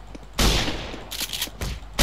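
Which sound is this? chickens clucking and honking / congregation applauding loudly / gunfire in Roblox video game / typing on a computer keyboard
gunfire in Roblox video game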